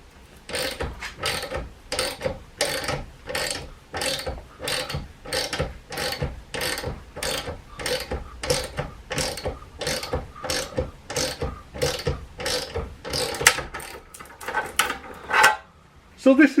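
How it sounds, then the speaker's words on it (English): A ratchet turns a bolt that draws the two halves of a hydraulic punch together through a panel, giving close, rapid bursts of clicking that repeat in a steady rhythm for the whole stretch. "I'm going to use a ratchet on our bolt here to actually draw the two parts of the punch together"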